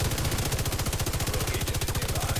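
Sustained light machine gun fire in the shooter game The Division 2, a rapid, steady stream of loud shots with no pauses throughout.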